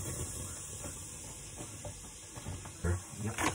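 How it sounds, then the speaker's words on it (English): Garlic and onion sizzle in a hot pan, a steady hiss with small crackles and a couple of sharper bursts near the end, with a faint voice present. "Because it's already hot. I put garlic and onion, what I prepared."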